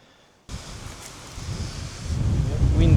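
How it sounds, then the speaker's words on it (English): Wind blows along the Murrumbidgee River, starting abruptly and building into steady, loud buffeting noise against the microphone, with rustling that grows stronger toward the end. "Wind has definitely picked up"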